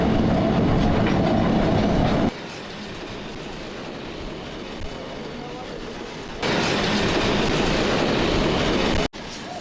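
A cargo train rolls across the Sahara from a Mauritanian iron mine, its loud steady rumble and clatter dropping partway through as the surroundings change, then swelling again, with voices heard over the noise.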